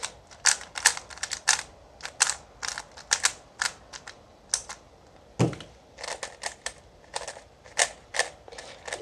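A speed cube is turned rapidly, giving a steady stream of crisp, hollow plastic clicks in quick clusters with brief gaps, close to the microphone and with no speech.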